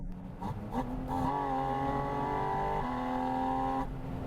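Porsche engine running steadily and loud, with a sustained tone whose pitch climbs and shifts between gears, heard close up without any talking.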